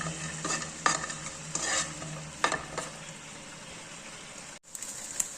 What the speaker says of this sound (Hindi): एक पैन में 2 चम्मच ऑयल या घी ले लेना है और ये बाकी के बादाम और काजू इसमें डाल के बस 1 मिनट